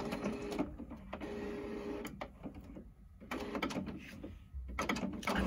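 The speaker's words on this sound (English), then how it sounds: "I think after printing a couple of pages, maybe it will start functioning again." An HP OfficeJet Pro 6978 inkjet printer with refilled cartridges prints a page, its print head shuttling back and forth in repeated whirring passes broken by clicks and brief pauses, close by.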